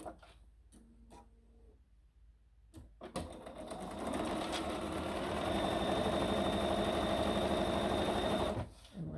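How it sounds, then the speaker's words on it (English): A sewing machine runs steadily while stitching quilt fabric squares along a marked line for a Variable Star sampler block, a few soft clicks and handling noises coming first before the motor settles into a loud, continuous whir. "then just sew on that line"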